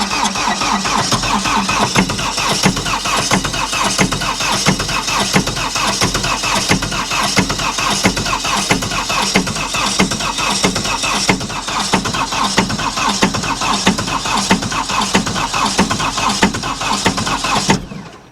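A diesel engine with a full fuel filter and a fuel problem is cranked and catches, a loud close chugging clatter that keeps running roughly and steadily until it cuts off at the end.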